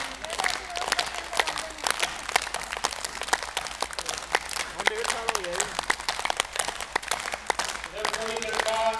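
Audience at an International Yoga Day celebration clapping loudly and continuously, a dense steady wash of applause throughout, with a voice speaking over it.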